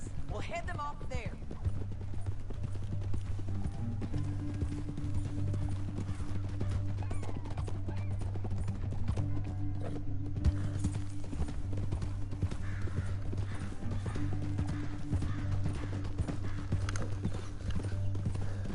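Horse hooves galloping in the video game Red Dead Redemption 2: a continuous rapid clip-clop rhythm with a whinny, under a low steady drone and talking voices.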